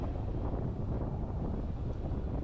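Strong breeze buffets the microphone as a recumbent electric trike rides uphill, a steady loud low rumble of wind noise with no pauses and no voices.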